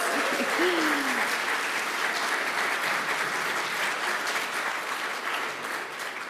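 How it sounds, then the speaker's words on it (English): An audience at an awards ceremony gives a sustained round of applause, dense steady clapping that fills the room and tapers slightly toward the end, with a brief voice heard early on. "Please join me in a round of applause."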